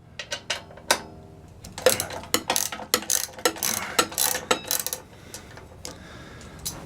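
Ratchet wrench loosening the upper bolts on a Briggs and Stratton P.E. 75 engine with ignition trouble, heard as a close series of sharp, uneven clicking bursts separated by short pauses.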